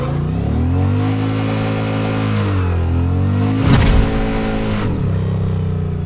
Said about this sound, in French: Il va falloir chauffer le pneu arrière de notre gros custom américain